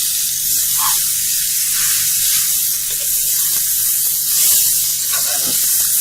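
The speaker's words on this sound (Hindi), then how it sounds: "अब आलू के साथ इन्हें भूनेंगे मसालों को अच्छे से।" Boiled potatoes roasting with spices in a pan, a steady close sizzling hiss that carries on without a break and with no voices.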